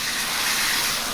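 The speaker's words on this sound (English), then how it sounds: "take a shot glass, I guess that's about an ounce of liquid of water, and just add it to your pan" About an ounce of water poured into a hot pan of cooking chicken gives a steady, loud hissing sizzle of steam that holds for the whole short moment, with no talking.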